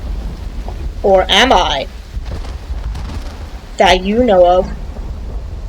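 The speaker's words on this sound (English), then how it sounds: "Very short rainstorms here" Rain and distant thunder from a brief rainstorm in the video game Uru: Complete Chronicles form a low, steady backdrop beneath two short spoken phrases.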